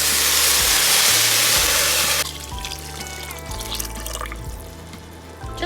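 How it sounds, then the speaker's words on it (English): Water is poured into a pot of fried rice for chicken mandi, a loud rushing pour that stops abruptly after about two seconds, followed by quieter sizzling and dribbling sounds. "add in your water."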